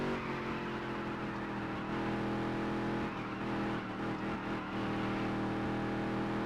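Race car engine in the Dirt to Daytona video game, a steady loud drone that rises and falls slightly as the car runs a lap, with no talk over it.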